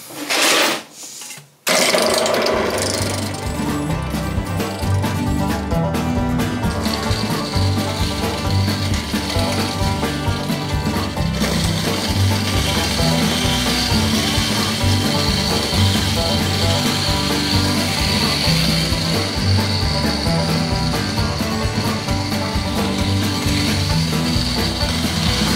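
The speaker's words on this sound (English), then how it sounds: "I'm going to start milling." Home olive mill grinding olives for oil, a steady mechanical whirr and rattle running loud and continuous after a brief start, with no talk.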